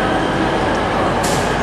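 A train at a station on the way to Derby, a loud continuous rumble and hiss of rail noise with a sharp high-pitched burst near the end, no voices.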